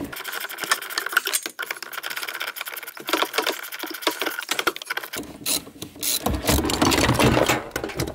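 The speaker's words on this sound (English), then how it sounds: "now we can start to actually remove the pedals" Two 10mm bolts being unfastened from a car's accelerator pedal during an electric vehicle conversion, heard as close, dense ratcheting clicks from a wrench, speeding up and growing louder toward the end.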